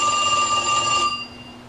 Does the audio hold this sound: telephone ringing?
yes